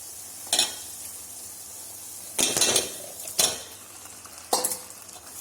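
Marinated chicken, seasoned with salt, chili and garam masala, frying in hot oil with a constant soft sizzle, punctuated by several sharp scrapes and clinks of a utensil stirring it in the pan.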